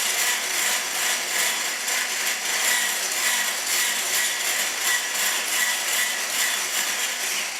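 An electric whisk beats egg whites toward stiff peaks, making a loud, steady, pulsing whir that runs unbroken throughout with no voices.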